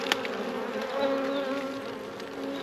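Honey bees drone in a dense, continuous buzz around an open nuc hive in March, a steady mid-level hum with individual bees passing close by, and no voices.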